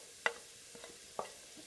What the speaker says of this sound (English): Stir the Spam occasionally, allowing the Spam to brown.